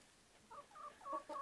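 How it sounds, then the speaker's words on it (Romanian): Several young hens cluck softly in short bursts in the sun, fairly quiet and close, with little else around. "Câteva găini!"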